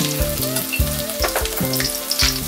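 Whole garlic cloves and almonds fry in hot oil for a broad bean stew, a loud close crackling sizzle with bursts of popping and spattering, no talk.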